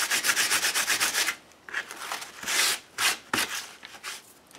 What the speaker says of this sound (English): Brush all the sanding dust off.